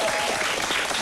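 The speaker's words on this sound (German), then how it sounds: "Sie hat heute Geburtstag und deshalb einen riesengroßen Applaus für sie." A studio audience on a TV show gives a short, dense burst of applause, a steady wash of many hands clapping at once.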